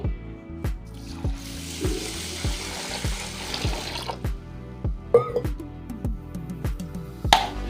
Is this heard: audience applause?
no